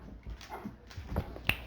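A picky dog indoors gives a few faint, short whimpers and whines, irregular and close, with a small sharp click near the end and no talking.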